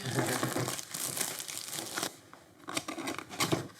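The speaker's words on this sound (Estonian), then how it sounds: "Kile võtmise kohta on mu lemmik." Plastic film wrap crinkles and tears as it is peeled off a DJI Mini 2 drone box, close and continuous with a brief pause midway before more crackling rustles.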